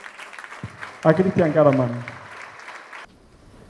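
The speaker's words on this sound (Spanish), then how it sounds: "Recibamos con un gran aplauso" Audience applause welcomes a speaker at a talk, a soft background patter of clapping under an announcer's voice that cuts off abruptly near the end.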